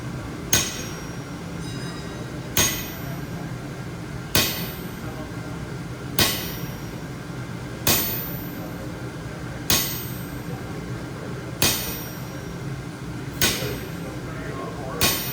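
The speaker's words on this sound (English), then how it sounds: "That's the heaviest hammer I have." A heavy hammer, then a sledgehammer, strikes metal about nine times at a slow, steady pace, each blow ringing sharply over low background rumble.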